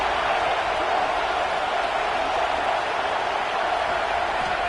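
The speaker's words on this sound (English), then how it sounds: "Listen to the crowd energy here in the early going." A steady, dense roar from a stadium crowd in a PS5 football game sits at an even level throughout, with no commentary on top.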